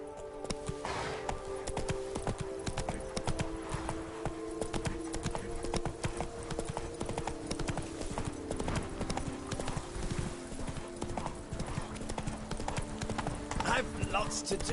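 Horse hooves galloping in the video game The Witcher 3, a continuous rhythmic clip-clop at steady pace, close and prominent, with a game character speaking over parts of it.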